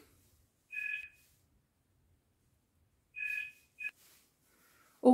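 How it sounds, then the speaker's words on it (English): A mobile phone rings in two short electronic trill bursts a couple of seconds apart, then a brief chirp follows, all against near silence. "my phone's ringing."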